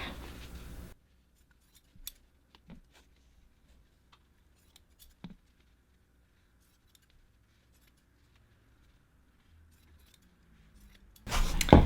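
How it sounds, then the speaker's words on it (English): Scissors trimming small fabric pieces for a no-sew folded fabric ornament, heard as a few sparse, faint, close snips separated by near silence, with louder handling noise at the start and end. "Okay, so I'm going to trim these last 4 pieces really quick."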